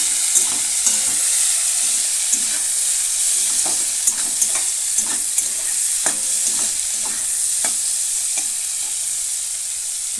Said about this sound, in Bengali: সব কিছু আবারও ভালো করে আমি ভেজে নেব